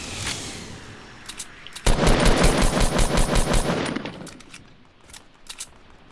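Rapid automatic gunfire in Fortnite Battle Royale, a loud burst of about two seconds of closely spaced shots with a few scattered single shots before and after.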